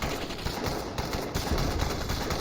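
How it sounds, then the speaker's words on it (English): FAL and CX4 gunfire trading back and forth in a Population: ONE mixed doubles finals match, a dense, steady crackle of overlapping shots at moderate loudness with no pause across the stretch. "FAL and CX4 shots going back and forth"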